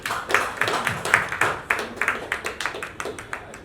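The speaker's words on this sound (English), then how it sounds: "We need more applause, come on" Audience applause at a merchandise launch event, welcoming actress Saiyami Kher onto the stage, heard as a small crowd's steady, sharp handclaps that carry on briskly and a little unevenly throughout.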